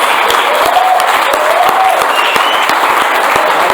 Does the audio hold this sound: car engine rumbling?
no